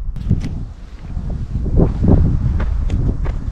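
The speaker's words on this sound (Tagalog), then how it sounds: "Lakas ng hangin." Strong wind gusts buffeting a microphone on a mountain road between Abra and Kalinga, a steady low rumbling roar that swells and fades without talk.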